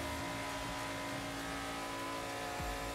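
A NASCAR-style race car engine revs and accelerates at Talladega in the racing video game Wreckfest, a loud sustained buzzing drone with steady tonal whine and a brief low thump near the end.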